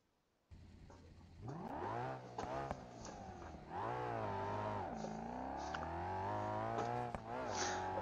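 Car engine in BeamNG.drive, a fast car with its engine preheat setting turned off, revving up and accelerating through repeated gear changes, loud and close throughout with no talk.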